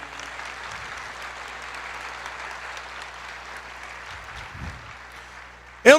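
Steady congregation applause during a church sermon rolls continuously at moderate volume, a dense wash of clapping with a sharp louder burst right at the end.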